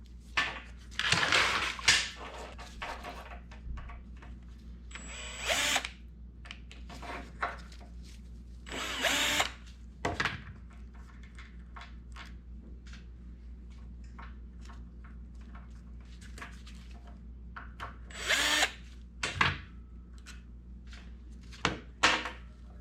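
A power tool works on the carburetor of a Husqvarna two-stroke trimmer, giving several short whirring bursts of a few seconds each, separated by quiet handling and small clicks, close by with no talk.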